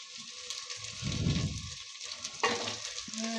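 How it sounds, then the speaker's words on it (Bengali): Mixed vegetables frying in a pan for Bengali-style bhuna khichuri give a steady, close hiss of sizzling, with a louder low burst as they are stirred midway and a brief scrape near the end. "এবার আমার এগুলি সব ভাজা হয়ে গেছে"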